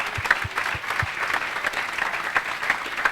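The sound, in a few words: audience applause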